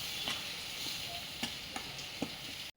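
Milk being stirred into moong dal sheera in a hot pan, a soft steady scraping and sizzle with a few distinct spoon knocks spaced about a second apart.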